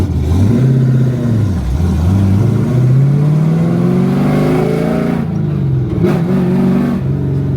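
A Chevrolet C10 truck engine revs loudly up close through a deep, booming NASCAR-style boom tube exhaust, its pitch dipping then climbing steadily before dropping and surging again, with no voices.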